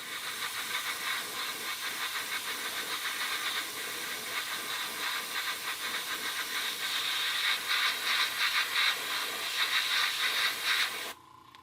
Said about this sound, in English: Just going to give this a quick shot of flat black.